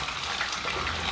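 Water gushes hard from a tap fitted to a newly built water tank with a reducer, a loud, steady rushing stream heard close up for a brief moment without talk.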